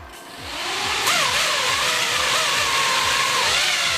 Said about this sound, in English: Let's give it just a quick little power up and make sure that the blades spin.